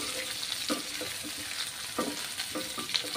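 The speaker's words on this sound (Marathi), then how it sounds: "तर आता टोमॅटोचा सुद्धा कच्चेपणा जाईपर्यंत आता आपल्याला इथे टोमॅटो परतून घ्यायचा आहे" Tomato sautés in a pan for a Saoji-style patwadi rassa, a continuous bright sizzle with rhythmic spatula scrapes and stirring taps every second or so.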